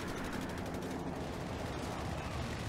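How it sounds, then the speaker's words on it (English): A P-47 fighter's strafing run in Company of Heroes 3 sounds as a dense, continuous roar of overlapping gunfire and impacts, steady and fairly faint throughout the short stretch. "P-47 strafing run."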